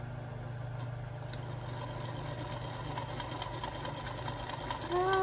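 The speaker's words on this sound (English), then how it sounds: "I'm just going to do full 1/4 inch seams" A sewing machine runs steadily while stitching quarter-inch quilt seams, giving a continuous close mechanical hum with a fast rhythmic pulse and faint talking near the end.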